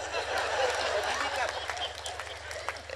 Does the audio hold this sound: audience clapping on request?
yes